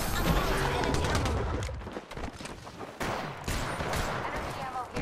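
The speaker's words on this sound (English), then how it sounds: "I'm spotted, taking fire." Rapid weapon fire in an Apex Legends match, loud bursts of automatic gunfire crackling close by in several volleys with short gaps between them, amid chaotic game effects.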